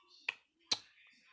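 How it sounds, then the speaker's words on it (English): A single sharp clap of the hands followed by a second crisp one, short and close in an otherwise quiet space. "Deku basically claps his hands once"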